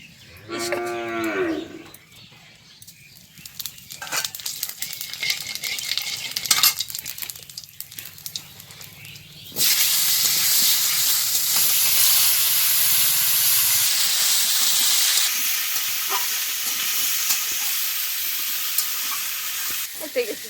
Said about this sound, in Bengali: আমার কড়াইতে তেল আছে, আমি আরেকটু দিয়ে দিচ্ছি তেলটা।